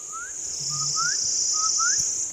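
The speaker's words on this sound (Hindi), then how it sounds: "कोई चिड़िया है कि क्या है पता नहीं" On a mountain trek in Uttarakhand, a bird gives several short, rising whistled chirps in pairs over a steady, high insect-like drone, fairly close and clear, with no talking.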